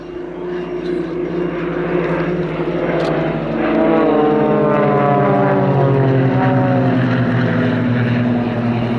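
Extra aerobatic propeller plane flying at the Little Gransten air show, its engine a loud, steady drone that rises and shifts in pitch as it manoeuvres, swelling louder partway through and holding strong to the end.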